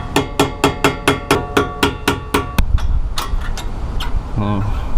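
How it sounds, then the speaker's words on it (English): Sharp metallic hammer strikes driving brake caliper pins out with a drill bit on a Mitsubishi Evo X, about ten evenly spaced ringing blows, then a few scattered taps in a noisier room. "I'm just gonna put the drill bit right here and hammer those 2 pins out."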